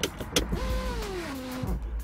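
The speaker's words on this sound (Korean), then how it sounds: "이 윈도우가 올라올 때 스무스하게 올라오는 느낌이라든가" A 2018 Mercedes-Benz E300 power window hums smoothly upward for about a second inside the quiet cabin, a soft whining motor tone that stops cleanly, heard close and fairly faint.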